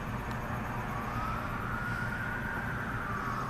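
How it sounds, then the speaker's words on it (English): An ambulance siren wails far off in the distance, a faint rising and falling tone sitting over steady low traffic rumble for a few seconds. "Sounds like an ambulance."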